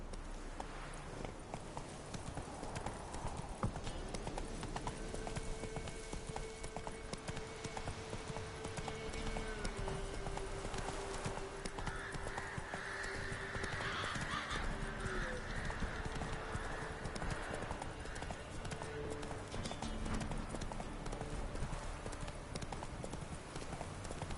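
Roach, the horse in The Witcher 3, gallops steadily, hooves clip-clopping without pause over a dense game soundscape with music and ambient noise.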